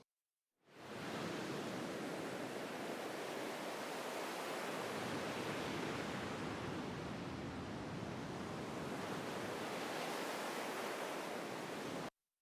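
Ocean waves ambience fades in and washes steadily as a dense, surf-like roar, its tone slowly rising and falling as the pitch is bent up and down, then cuts off abruptly.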